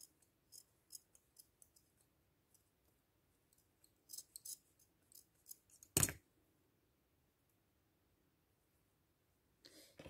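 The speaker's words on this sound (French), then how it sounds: "Je viens couper ce qui dépasse forcément." Scissors snipping off excess fabric while making a Christmas nativity craft: sparse small crisp cuts, then one sharp louder snip and a final brief cutting sound, close up in a quiet room.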